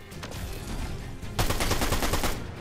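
In Fortnite, gunfire erupts in close rapid bursts, sparse at first and then a dense, steady volley of automatic shots for the last second or so.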